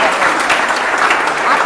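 An audience claps together at a ceremony, steady close applause filling the short stretch with no voices on top.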